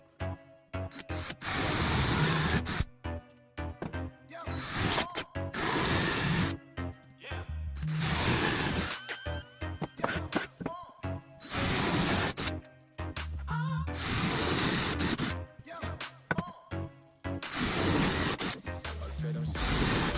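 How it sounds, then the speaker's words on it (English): A power drill bores a series of holes in oak, with repeated bursts of whining, grinding drilling separated by short pauses. "So now that is set, I can drill these holes"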